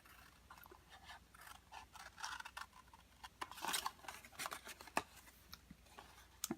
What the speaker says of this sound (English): go to the right and cut one of those triangles off right at the score line.